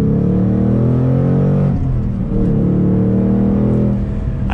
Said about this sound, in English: Ford's 5-liter, we all love the way this thing sounds. It is just such a beefy tone, so crisp the way it revs up.